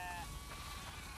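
Sheep on a farm in The Last of Us Part II give a brief, wavering bleat right at the start, heard against a dense, steady game background.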